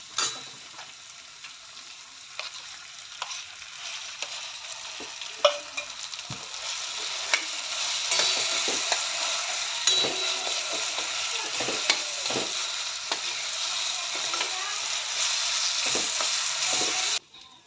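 Onion and tomato frying in a pan as cooked mashed eggplant (bharit) goes in, a bright sizzle that swells louder midway, with scattered knocks and scrapes of a stirring spoon.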